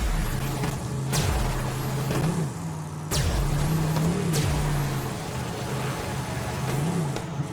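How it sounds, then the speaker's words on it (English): Video game car engine and exhaust in Borderlands 3, a steady droning engine note that rises and dips as the vehicle boosts, with sharp impact-like transients and no talk. "I like the noise the exhaust makes to when you boost."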